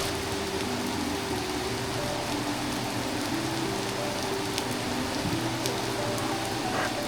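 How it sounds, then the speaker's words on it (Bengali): Heavy rain pours steadily over a forest of large trees, a dense, constant hiss that stays even and unbroken throughout, with faint low tones running beneath it. "এখানে এসে আটকা পড়েছি বৃষ্টিতে, আমি বেরোতে পারছি না।"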